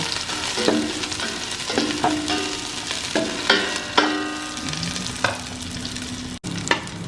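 Pork ribs frying in only a little oil, with a steady sizzle under repeated spatula scrapes and clanks against the pan, some ringing briefly. Each stroke stands out clearly above the frying.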